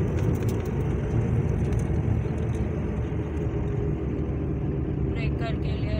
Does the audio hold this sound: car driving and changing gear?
yes